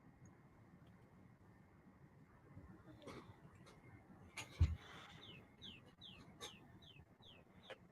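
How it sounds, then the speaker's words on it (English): Small birds chirp in a quick run of bright, faint tweets near the end, over a low murmur of background noise, with a louder bump partway through. "I can hear chirping."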